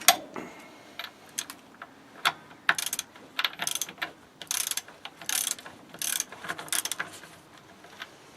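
A ratchet wrench clicks in uneven bursts while undoing a 24 mm nut on the front axle of a Citroën Traction during restoration, with sharp close ratcheting strokes separated by short pauses.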